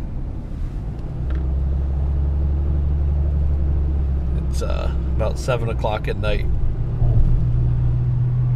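Steady low rumble of dense evening car traffic on the way to the Verrazano Bridge, heard from inside a vehicle, with a person talking briefly over the constant engine and road drone.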